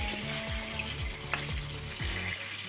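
Oyster mushrooms and meat for spaghetti sizzle and fry in a pan, a steady close crackle with a few stirring scrapes and no talking.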